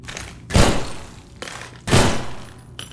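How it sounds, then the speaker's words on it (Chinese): Two sharp, heavy gunshots from a modded weapon in the video game Half-Life 2, each a loud booming crack with a short decaying tail, spaced about a second and a half apart. "你看看那个枪声"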